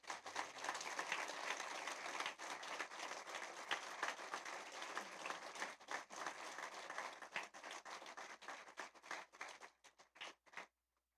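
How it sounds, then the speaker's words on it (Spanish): Church congregation bursts into applause during a sermon, a dense wash of many hands clapping that holds steady for several seconds, then thins into scattered claps and fades to silence. "Dale un aplauso a Dios."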